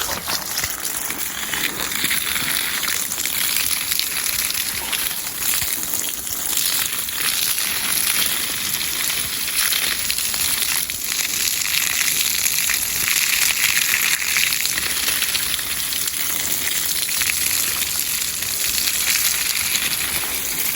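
Water pours steadily into a hole at the root of a pomegranate tree growing in a container, a continuous close gushing and splashing that holds at an even level for about twenty seconds with no talk.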